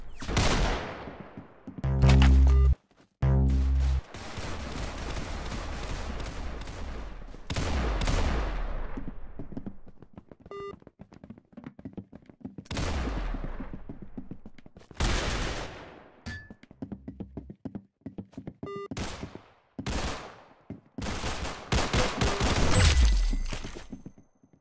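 Video game gunfire, with repeated sharp shots and bursts of rapid fire coming close and loud across the whole span, separated by brief pauses and swelling into heavier volleys near the end.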